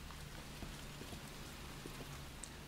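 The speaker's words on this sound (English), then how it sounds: "It's raining." Steady rain in the survival-horror game Resident Evil 2, falling outside near a broken barred window, a soft continuous hiss with faint scattered drops, alone and fairly quiet throughout.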